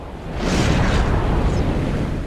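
Missiles explode in the video game Sly 3: Honor Among Thieves, a loud, broad roaring blast that swells quickly and then rumbles on steadily to the end.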